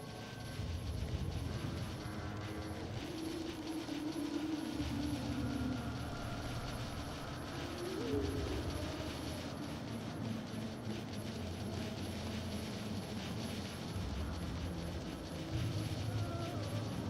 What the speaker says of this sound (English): The chopper should be here any moment.